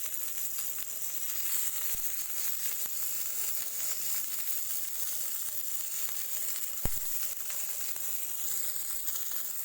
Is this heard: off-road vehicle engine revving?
no